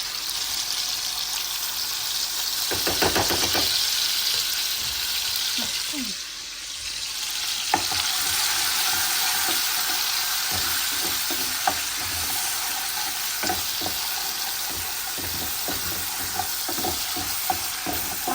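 Garlic and ginger frying in a pan give a continuous close sizzle, with a short burst of stirring near the start and intermittent scraping clicks of a utensil throughout, without clear talk.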